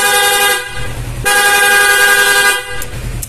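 Loud dual-tone PIA horn blasts on a Yamaha Sniper 155 motorcycle, two long honks separated by short gaps, close and piercing with a bright harmonic buzz.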